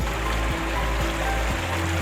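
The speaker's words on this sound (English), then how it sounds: "The mixed sludge water comes out, goes to sludge collection sump." Sludge-laden water gushes steadily out of a motorized gate valve at the bottom of a clarifloculator in a water treatment plant, a continuous loud rushing flow with a low rumble and no talk.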